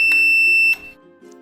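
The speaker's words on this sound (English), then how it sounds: "disable the beeping if it seems annoying every time you send a command from a remote" A remote-controlled relay receiver gives a short, sharp electronic beep, loud and close, followed by a quieter faint tone.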